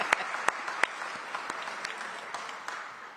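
Scattered claps from an audience at a city officials' meeting on cooling centers, honoring a councilmember: sparse, uneven hand claps, a few sharp ones early, then thin, fading applause with no talk.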